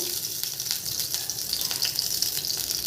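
Ghee crackling and sizzling in a hot pan, a steady hiss with small pops, close up and fairly loud, no talking.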